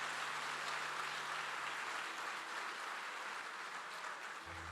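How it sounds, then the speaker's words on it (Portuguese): Church congregation clapping during an evening worship service, a steady, even wash of many hands heard at a distance, soft and sustained without a break. "Pode dar uma salva de palmas para Jesus."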